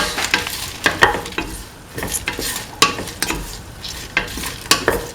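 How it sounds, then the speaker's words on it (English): Salt being stirred into a lentil, snake gourd and coconut milk stew, a spoon scraping and clacking against the pot in irregular close strokes over a soft sizzle, with no talking. "Mix in the salt."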